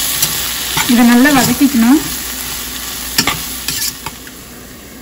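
Masala and tomatoes for mutton biryani sauté loudly in a pan with steady sizzling and stirring scrapes, while a voice speaks briefly near the start.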